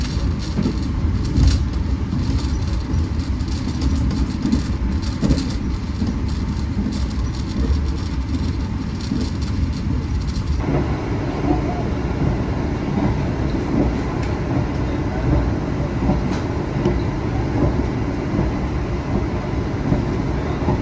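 Argo Lawu executive-class express passenger train on the Yogyakarta–Jakarta line, running at speed toward Cirebon with a permitted top speed of 120 km/h: a loud continuous rumble and rattle of rail wheels and carriage throughout, with a sudden shift in tone partway as the surroundings change.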